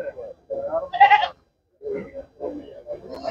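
Native Malabari goats at the Chattiparamba livestock market give a short, wavering bleat amid close conversation between buyers and sellers.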